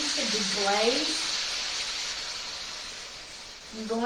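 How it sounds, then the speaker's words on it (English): Beef tips sizzle in a pan, a steady bright hiss under a voice speaking at the start and end. "So my beef tips are sizzling."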